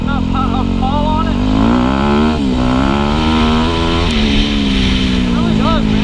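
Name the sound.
Yamaha YZ250FX motorcycle being ridden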